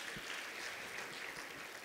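Faint, distant applause from an audience at a women's health and wellness event, a brief, even patter of clapping heard from afar.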